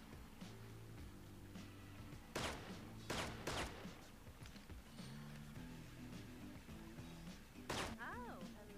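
Sharp gunshots from the Six Guns video game crack out in a few separate bursts over a musical game soundtrack, with a speaking voice partly heard.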